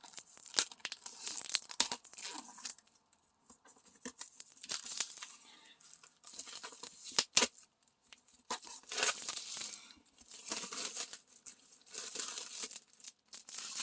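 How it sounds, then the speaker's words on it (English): Plastic packaging is torn and crinkled off a small pin board in irregular bursts of ripping and rustling, with short pauses and a few sharp snaps, all fairly close and without speech. "So I'm just going to try my best to get this plastic off."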